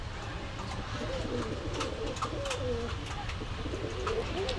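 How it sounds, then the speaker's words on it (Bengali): Pakistani Rampuri pigeons, including a red-necked pair, coo softly and repeatedly at a pigeon market in Gollamari, Khulna, low rolling calls over a steady murmur of market background noise. "দর্শক এই এক পেয়ার গলায় লাল কবুতর, খুব সুন্দর কোয়ালিটির কবুতর।"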